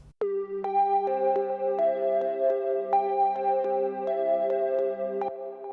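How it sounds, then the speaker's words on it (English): A Serum synth lead patch with added distortion, played as sustained bright notes that change pitch every second or so, close and steady with no voices. "What that is a serum patch that I've added some distortion to."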